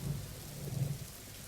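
Heavy rain pours steadily at night during a storm, a soft, continuous hiss with a low thunder rumble underneath, faint and with no voices.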